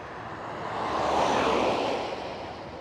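A Singapore Airlines Boeing 747 passes at Schiphol Airport, its engine roar swelling to a broad whooshing peak and then fading over a few seconds, heard from a distance.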